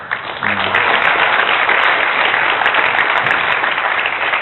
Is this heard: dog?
no